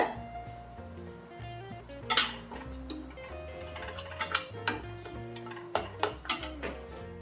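A metal ladle clinks and scrapes against a kadai while ragi flour is dry-roasted over a medium flame, giving irregular bright taps and clatters over a soft tonal hum.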